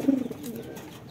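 A single close, soft coo from a king pigeon, a low rounded call that swells briefly and fades within about a second.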